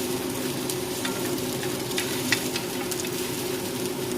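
Chopped onions sauté steadily in a hot pan for salsa, a continuous close sizzle with faint crackles and one small pop, no talking.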